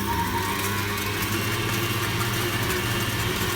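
An electric whisk beats sugar for tiramisu, a steady close motor whine and buzzing hum that runs without pause for the whole stretch, with no talking.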